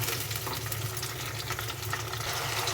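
Onions fry in a pan and are stirred with a spoon, giving a steady, even sizzle with soft scraping throughout and no talking.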